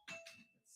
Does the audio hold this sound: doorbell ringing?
yes